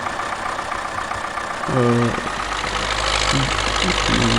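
Tractor engine in the video game Farming Simulator 2009, a steady mechanical drone that picks up around two seconds and settles into a louder, continuous revving hum with a deep low rumble.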